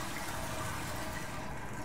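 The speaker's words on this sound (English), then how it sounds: "I can flush the toilet." A toilet flushes in the sci-fi horror game SOMA, a steady, fairly quiet rush of running water that continues evenly with no talking.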